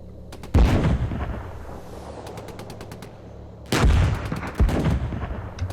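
Tank destroyed under fire in the game GHPC, with two loud, close explosive blasts about three seconds apart, each followed by crackling debris and rapid bursts of gunfire, and no talk.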